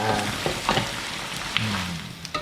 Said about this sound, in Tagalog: Isa-gisa uli. So, tuloy-tuloy lang ang gisa.